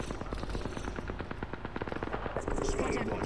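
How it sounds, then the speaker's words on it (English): Rapid gunfire crackles in Apex Legends, bursts of shots from a fight some distance off, mixed with game noise and partly under talk. "They're being shot at over there."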